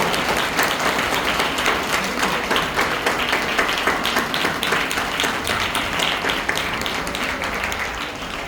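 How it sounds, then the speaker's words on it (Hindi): A congregation at a Christmas worship service claps loudly and continuously to show God their joy, a dense, vigorous round of many hands sustained at full volume throughout. "आइए हम परमेश्वर को अपनी तालियों की आवाज से हम परमेश्वर को बताएं कि हम कितने खुश हैं।"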